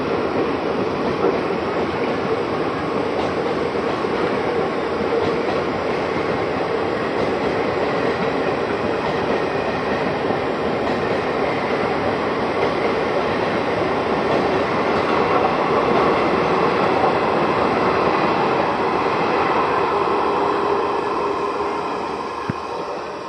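An inaugural special passenger train runs on the Gonda line near Budwal junction, with a loud, continuous rumble and wheel rattle that holds steady for the whole stretch and no talking.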